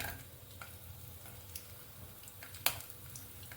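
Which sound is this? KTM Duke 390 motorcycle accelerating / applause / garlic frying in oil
garlic frying in oil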